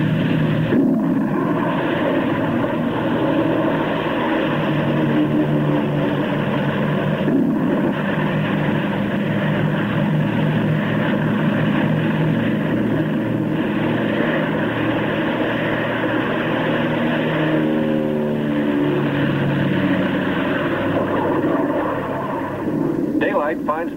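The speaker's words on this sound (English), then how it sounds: "They must risk a takeoff in darkness before the terror of the storm strikes." Propeller planes in a 1948 polar expedition film take off in darkness from an aircraft carrier ahead of a storm. Their engines give a steady, loud droning roar throughout, with narration heard over it.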